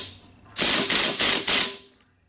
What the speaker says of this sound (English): Put our 14 millimeter bolt back in, our 14 millimeter socket.